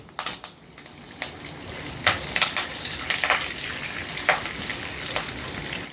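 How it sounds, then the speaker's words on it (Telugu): Mustard seeds, urad dal, chana dal, cumin, dried red chillies and curry leaves fry in hot oil for a wheat rava upma tempering, a loud close sizzle that swells and stays dense, with sharp pops and crackles throughout. "పోపు వేగిందండి"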